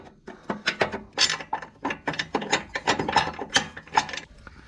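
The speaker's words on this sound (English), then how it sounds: "I went ahead and broke this free with a small socket." Rapid repeated ratchet clicks from a small socket wrench breaking loose a radius rod bolt on a Can-Am Maverick X3, a close, busy run of mechanical clicking and rubbing with no voices.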